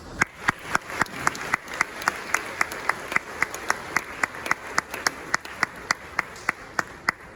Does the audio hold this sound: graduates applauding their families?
yes